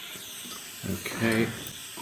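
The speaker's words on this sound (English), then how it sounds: "So I use oxidizing flame." Jeweller's torch burning with an oxidizing flame while melting wire on a bangle edge, a steady close hiss and rushing roar that swells briefly in the middle.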